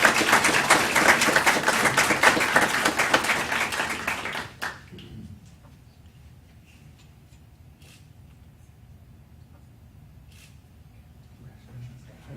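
Applause for a high school student at a county school board meeting, dense clapping filling the first four and a half seconds before cutting off into quiet room noise with faint rustles.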